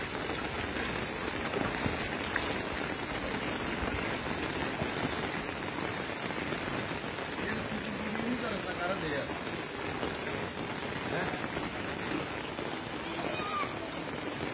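Steady rain falls across a flooded primary school ground and waterlogged road in rural Bangladesh, a dense continuous wash of drops pattering on water, even and unbroken throughout, with no voices standing out.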